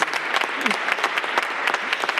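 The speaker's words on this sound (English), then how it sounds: "let's take a moment, we're already doing it, to applaud these outstanding library workers" Audience applause in the chamber at a Cleveland City Council meeting honoring library workers, close and crisp with individual claps forming a steady, lively patter.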